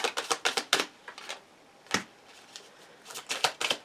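Oracle cards being shuffled by hand: quick clusters of crisp riffling flicks, then a pause with a single snap, then another burst of rapid card clicks, close and fairly soft.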